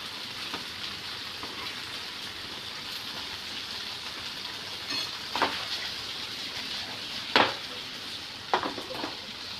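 Paneer fries lightly in oil with a steady, soft sizzle that runs throughout, broken by a few sharp clinks of a utensil against the pan near the end.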